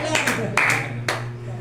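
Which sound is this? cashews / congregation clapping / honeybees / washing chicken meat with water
congregation clapping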